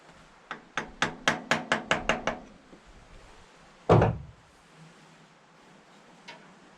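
A hammer strikes a chisel to loosen a stubborn bolt, a rapid run of about eight ringing metallic blows, then one heavier thud, a short pause and a faint final tap.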